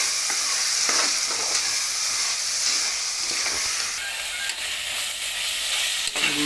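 Soya pulao with fresh green peas, coriander and mint frying in a pan, a loud, even sizzle with faint scraping stirs and small ticks throughout, no voices.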